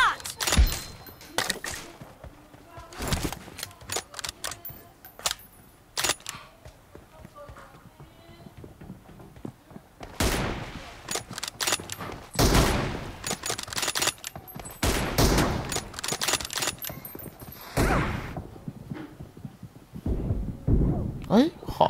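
Sniper rifle gunfire in a one-versus-two mobile shooter match: sharp, loud single shots rings out irregularly, some in quick clusters, over faint game ambience and occasional voices.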